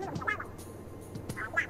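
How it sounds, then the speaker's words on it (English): Small Fry chirping in Splatoon 3, a few short squeaky quacking calls in quick bursts over a quiet game backdrop. "Is that your small fry buddy, chirping about something?"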